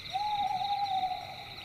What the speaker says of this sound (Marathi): ओढ्याभोवताली असणाऱ्या झाडांवर वेगवेगळे पक्षी विचित्र आवाजात